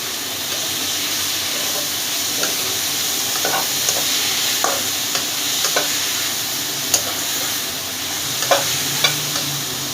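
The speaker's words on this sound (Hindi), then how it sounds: "योगर्ट डालने के बाद हम इसको फिर से मिक्स करेंगे" Bitter gourd (karela) with added yogurt sizzles and hisses steadily in a pan, while a spoon stirs through it with scattered scrapes and light taps over the continuous frying noise, close and fairly loud, without speech.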